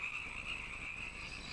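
Frogs croak in the wild, a dense, continuous chorus of high trilling calls filling the short stretch at a steady, moderate level with no voices.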